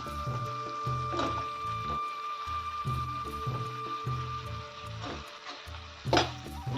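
Chopped green chillies hit hot oil in a pan for a spicy Maharashtrian chilli bhaji, giving a steady close crackling sizzle with small pops and spoon clatter throughout.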